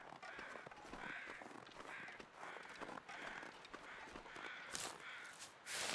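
Crows in The Long Dark video game give a steady series of rhythmic caws, about one each second, at moderate distance over a soft ambient wind bed.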